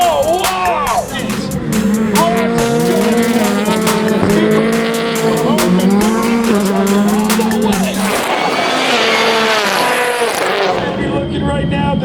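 A 600hp all-wheel-drive Subaru race car roars around a track, heard from inside with loud engine climbing through gears and tires squealing, while excited voices talk over the din.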